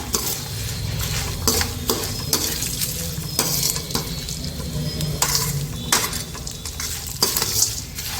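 Flattened rice chivda being stirred in a pan with turmeric over a low flame gives repeated scraping and clinking strokes of a spoon against metal, close and fairly loud, with a faint sizzle beneath.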